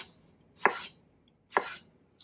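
A kitchen knife cuts even slices through a melon for a fruit platter: two sharp, crisp chops on a cutting board about a second apart, close and clear in a quiet room, with no talking.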